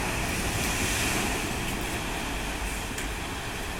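Mercedes-Benz Unimog pushing through a water-filled ditch on a demonstration course in Germany, a loud, steady broadband rush of churning, splashing water with an engine rumble beneath, continuous throughout.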